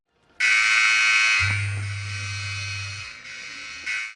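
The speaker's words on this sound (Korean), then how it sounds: "그때 갑자기 재난 경보음이 울리는데" Loud, steady electronic disaster alert tone blares continuously for about four seconds, joined midway by a low droning buzz, with a brief swell near the end.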